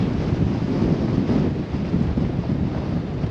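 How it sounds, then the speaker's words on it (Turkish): Loud, constant wind and sandstorm buffet the microphone in Amman, Jordan, with a heavy low rumble and roaring hiss throughout, no voices. "Aşırı bir rüzgar ve kum fırtınası var."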